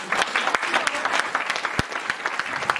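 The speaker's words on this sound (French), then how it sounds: "applaudissez là" Audience at a French-language conference on truth and liberty applauding a speaker, a lively burst of close, crisp clapping with sharp individual hand claps standing out from the crowd.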